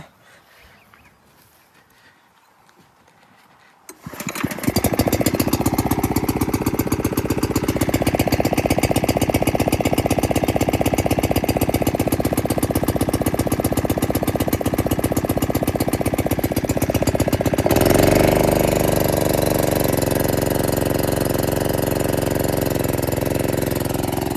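A petrol-powered irrigation water pump engine starts after a few quiet seconds and runs steadily and loudly close by, a continuous droning motor with a slight shift in tone near the end.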